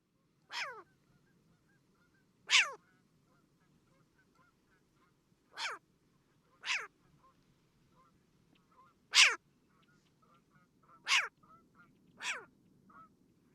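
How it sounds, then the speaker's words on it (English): Short-eared owl calling, seven loud, rasping, sharply rising barks spaced irregularly a second or two apart, each brief and harsh against a nearly silent background. "we're going to listen to our good friend Short Ear Owl here"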